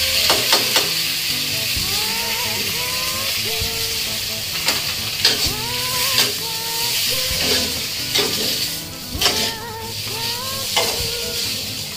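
Genjer vegetables stir-fried in a pan with fragrant spice paste, a continuous loud sizzle with scraping stir strokes, and a faint musical tune in the background.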